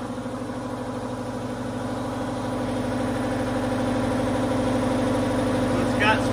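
An air compressor runs steadily beside a kiln burner in a casting setup, a close, constant droning hum that holds at a fairly even level throughout, with a brief voice near the end.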